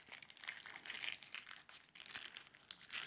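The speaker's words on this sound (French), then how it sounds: "Je vais couper l'excédent." Plastic wrap is cut and crinkled over a tattoo machine, giving a close, quiet, continuous crackling and rustling with small snips and crunches.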